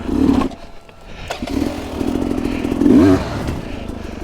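A hard enduro motorcycle stuck on rough ground, its engine revving hard in repeated bursts close by, rising and falling as the rider struggles to free it.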